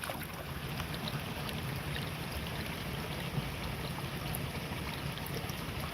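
Creek water flows steadily at a gold prospecting spot in Georgia, a continuous broadband rush with gentle splashing and some wind, even and unbroken throughout with no talking.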